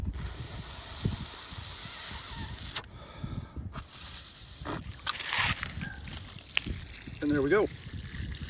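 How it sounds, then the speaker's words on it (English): Water siphoned from a cedar hot tub gurgles and trickles out through a hose with sputtering hisses and bubbling bursts, while a person briefly speaks nearby. "So now the water started coming out of the tub."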